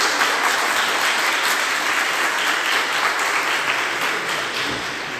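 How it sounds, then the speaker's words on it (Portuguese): A church congregation claps together after a reading during a Portuguese-language sermon, a loud, dense and sustained round of applause that carries on for several seconds and eases off slightly at the end. "dar uma salva de palmas para Jesus."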